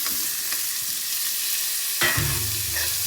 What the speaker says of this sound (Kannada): ಇವಾಗ ಇದಕ್ಕೆ ಟೊಮೊಟೊ ಆ್ಯಡ್ ಮಾಡ್ಕೊಳ್ತೀನಿ.